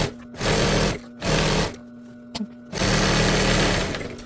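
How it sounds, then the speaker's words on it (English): A sewing machine stitches and backstitches around a homemade pet bed, running in three stretches of fast steady whirring with short pauses between. Close and clear. "Now back at the sewing machine, I'm just gonna backstitch and keep going all the way around"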